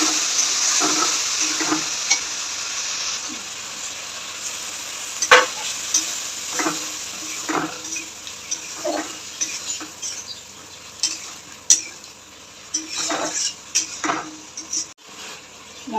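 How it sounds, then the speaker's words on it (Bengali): Spice paste and potatoes stirred in a hot pan, a steady sizzle running throughout with a spoon scraping and clinking against the metal every second or so, close and clear with no talking. "মশলাটা ভালো করে কষা হবে"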